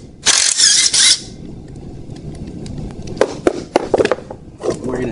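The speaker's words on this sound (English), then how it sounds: "we're just going to blast it off with the impact." A close, loud impact wrench hammers off stock steering parts in a short high-pitched burst of about a second, followed by clanks and knocks of metal parts being handled.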